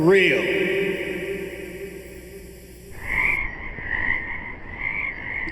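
Frogs croaking in a steady trilling chorus that takes over after a few seconds of music-like tonal sound, continuing at moderate level with gentle swells.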